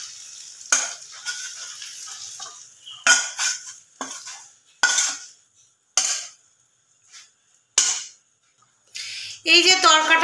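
Chicken poured into a bubbling egg tadka in a pan and stirred, with repeated clinks and scrapes of a spoon against the metal in separate bursts and a faint sizzle between them.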